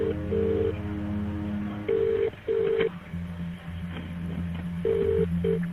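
Telephone keypad dialing 999 on a phone line, a run of clear sustained DTMF tones in short bursts separated by brief gaps, close and loud over a faint line hum, with no speech.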